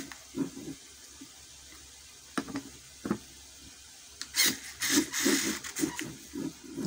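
A ZPER ZP016-3 cordless screwdriver strains against a 2 cm nut in short, uneven whirring bursts and clicks that grow louder toward the end, close by.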